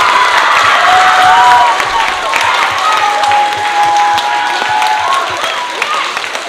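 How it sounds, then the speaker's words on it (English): Steady applause and some cheering from a school audience for the second-place speller at the 2023 Grand Elementary Spelling Bee, a sustained loud wash of clapping with crowd murmur and voices. "A hand of applause for Lorenzo."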